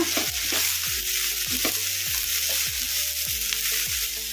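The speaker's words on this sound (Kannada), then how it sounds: "ಈಗ ಈ ಬೀಜನ್ನ ಈ ಉಳ್ಳಾಗಡ್ಡಿಗೆ ಹಾಕ್ಬಿಡೋಣ ಕಲಸ್ಕೊಂಬಿಡೋಣ" Bitter gourd seeds tossed into onions in a pan, sizzling steadily while a spatula scrapes and stirs in a regular rhythm of roughly two strokes per second, close and clear with no talking.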